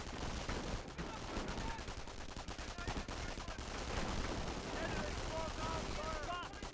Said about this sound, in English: Now they're going to be stopped and shooting.